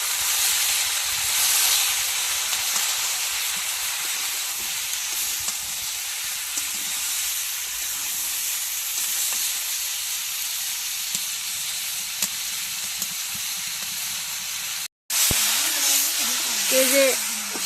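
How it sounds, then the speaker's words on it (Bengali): Sour vegetable curry seasoned with salt, turmeric and chili powder sautéing in a pan, giving a steady, loud hissing sizzle throughout, with a brief break near the end followed by a faint voice. "এই যে টকের তরকারি কষানো হয়ে গেছে"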